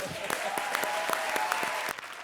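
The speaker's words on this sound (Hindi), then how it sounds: "प्रीति जिंटा के लिए जोरदार तालियां।" An audience claps together in dense, sustained applause for a couple of seconds, close and steady.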